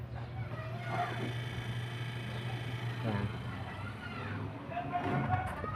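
A stainless 250 W 12 V spin aerator motor for tilapia and catfish ponds whirs steadily after being lifted out of the water, with an even mechanical hum running for several seconds and occasional faint higher tones.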